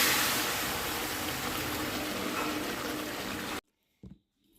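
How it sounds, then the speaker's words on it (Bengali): Kidney beans (rajma) pour into a pan of cooked spice masala, making a steady, loud wet rush that lasts several seconds and then stops abruptly, followed by a brief faint clatter. "এখন আমি রাজমাগুলো এতে ঢেলে দেবো।"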